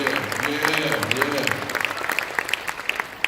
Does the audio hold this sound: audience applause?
yes